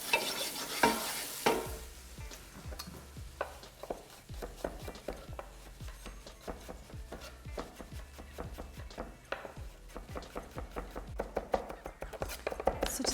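Onions frying in a pan for a Mexican chicken chilli, stirred and scraped with a utensil in repeated rhythmic strokes over a steady sizzle, close and moderately loud with no talking.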